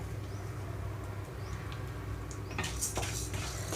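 Roasted ingredients for Andhra kandi podi, a toasted lentil powder, are scraped from a pan onto a plate. A low kitchen hum runs steadily, then close clinks and scrapes of utensil on dishware come in the last second or so.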